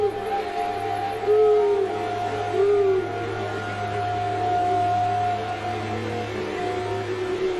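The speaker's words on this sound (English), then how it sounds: "here's the owl in the background" An owl hoots in the background outdoors, giving a few soft, low calls spaced over several seconds beneath a steady, constant hum.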